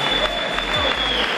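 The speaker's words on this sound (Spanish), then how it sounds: "Y aplauso también para nuestra copi." Brief burst of audience applause at an awards ceremony for a dirt rally, honouring a female co-driver, steady clapping filling the whole short moment.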